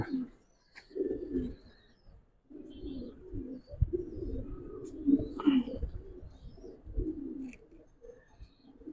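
Old-breed Giribaz pigeons coo in a loft, a series of soft, low, rolling calls close by, with faint chirps and light rustling in between and no talk.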